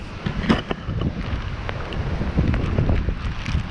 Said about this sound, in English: there's some pretty serious wind